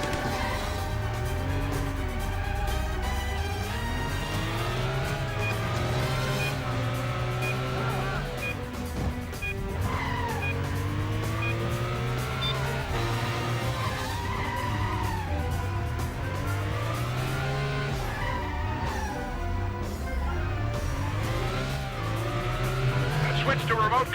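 Car engine in the driving game Stuntman, revving and shifting pitch constantly during a chase after a van, with tire squeals and a voice speaking over it.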